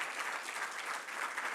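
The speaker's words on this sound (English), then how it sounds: "give us a warm round of applause" Warm applause from the audience at a construction law conference, steady and even but fairly faint, as if heard from a distance, lasting under two seconds.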